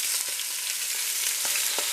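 Close, loud sizzling of skin-side-down chicken pieces frying in a pot: a constant bright hiss dotted with occasional sharp pops, with no voices.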